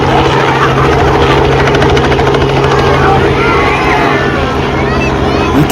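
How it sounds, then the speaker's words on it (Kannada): A helicopter flies low over a crowd at an Easter egg drop event, its rotor giving a steady, loud, throbbing drone throughout, with faint voices beneath. "ನಮ್ಮ ಹತ್ರನೇ ಬಂದು ಹೆಲಿಕಾಪ್ಟರ್ಗಳಿಂದ ಎಗ್ ಡ್ರಾಪ್ ಮಾಡ್ತಾರೆ"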